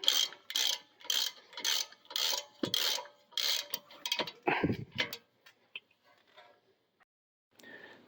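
Ratchet wrench tightening front brake caliper bolts on a 2018 Dodge Durango: about eight quick bursts of clicking in a regular back-and-forth rhythm, close and fairly quiet, followed by a few faint scattered taps and near silence.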